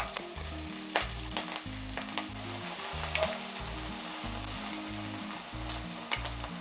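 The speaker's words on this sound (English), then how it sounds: "Turn up the heat, add oil and fry spring onions for a few minutes." Spring onions frying in oil in a hot pan for Chinese fried rice, a steady close sizzle punctuated by repeated stirring scrapes, alongside rhythmic background music.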